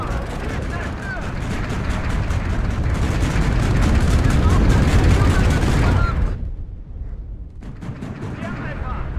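Booming artillery and rapid gunfire from the WARNO real-time strategy game roll on continuously and loudly for about six seconds, then cut out briefly before a fainter rumble of battle resumes.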